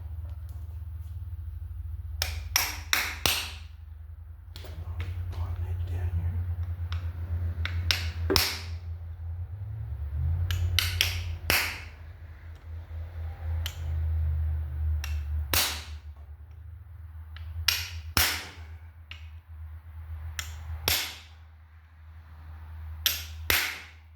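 Light hammer taps seating a frost plug into the engine block of a 1957 vehicle, a string of sharp, close metallic clicks in small bursts with pauses, over a steady low hum.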